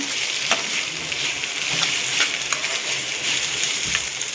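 An onion-tomato masala sizzles in oil in a pan while a spoon stirs it, making a continuous close frying hiss with scattered scraping clicks and taps.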